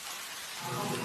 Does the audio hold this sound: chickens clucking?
no